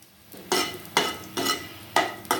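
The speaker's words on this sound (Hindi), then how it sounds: "लहसुन फ्राई हो जाए" Repeated bursts of sizzling as garlic is stirred in ghee in a hot pan for dal, about five sharp surges with brief quieter gaps, close and fairly loud.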